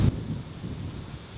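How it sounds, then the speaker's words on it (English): Low, steady rumbling wind buffets the microphone with no break, broadband and constant throughout. "it's pretty windy out and it's a little freaky"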